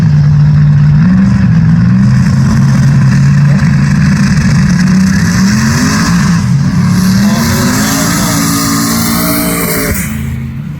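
A 1980 Trans Am with a new turbo setup roars loudly and close through a run, its engine pitch climbing steadily before an abrupt break near the end as the turbo pipe blows off.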